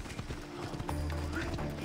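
Horse hooves clip-clopping in a steady trot in the Assassin's Creed Odyssey game world, with a brief whinny and music-like tones underneath, moderately loud throughout.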